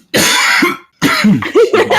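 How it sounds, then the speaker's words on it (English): Sick people coughing close up, two loud rough bursts of coughing separated by a short pause, the second followed by throat-clearing and gravelly vocal sounds. "we're all coughing because we're all sick."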